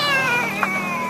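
A voice imitates a cat meow, a single harmonic-rich, wavering mew that lasts about a second, close and loud, with nobody else talking.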